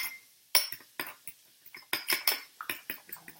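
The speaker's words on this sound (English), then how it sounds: "So I just use a fork to scramble up my eggs" A fork scrambles eggs in a bowl for a California burrito, a run of quick clinking scrapes and taps against the bowl, close and fairly quiet, with irregular pauses between bursts.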